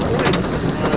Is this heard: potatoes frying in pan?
no